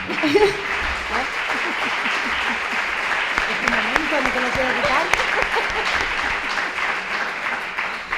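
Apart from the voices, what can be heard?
audience applause at conference panel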